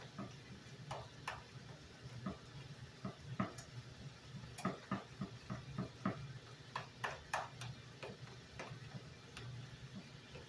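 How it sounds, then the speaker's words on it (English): Big Mac sauce ingredients with apple cider vinegar being mixed in a bowl: soft, faint clicks and taps of a spoon in an uneven rhythm over quiet background noise, close by. "Now we're going to mix this all together."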